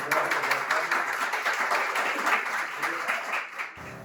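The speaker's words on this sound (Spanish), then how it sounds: "vamos a dar un aplauso." Audience applause after a history lecture in Santiago del Estero, a continuous crowd of hands clapping at steady loudness for several seconds before breaking off abruptly.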